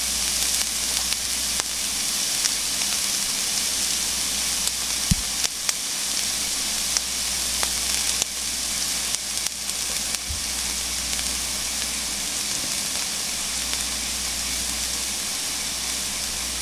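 Egg masala bhujia sizzles steadily in a frying pan under a lid, a continuous even frying hiss with a few faint clicks and no talk.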